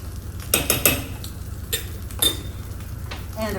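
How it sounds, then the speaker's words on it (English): Utensil stirring a maple syrup reduction in a pan over low heat for crab cakes, producing clustered metallic clinks and scrapes in short bursts, close and clear over a low steady hum. "Over a low heat, stir it up real quick."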